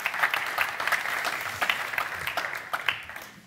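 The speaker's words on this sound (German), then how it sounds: "das war der Applaus für dich" An audience at a medical talk applauds a speaker after her introduction, a dense, moderately loud patter of many hands clapping steadily throughout.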